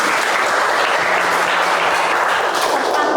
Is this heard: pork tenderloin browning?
no